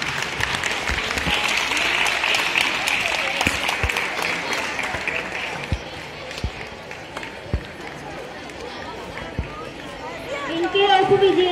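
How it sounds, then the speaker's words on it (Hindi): Loud audience applause at a school prize ceremony, dense clapping that thins into scattered individual claps and crowd chatter, with voices rising near the end. "जोरदार तालियां।"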